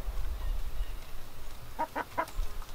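Chickens, including Easter Egger hens, cluck a few short times in a quick cluster near the end, fairly faint over steady background noise.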